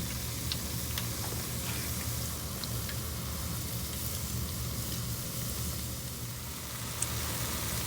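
Parmesan balls frying in avocado oil in a saucepan on a stovetop, giving a steady, moderately loud sizzle throughout with a few small ticks and pops.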